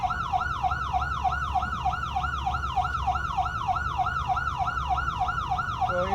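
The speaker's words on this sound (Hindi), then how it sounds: "Now you're driving with lights and sirens." An ambulance siren wails continuously and loudly from the vehicle while it is driven with lights on during military medical training in Israel, a fast rhythmic yelp over a steady low engine rumble, with no speech.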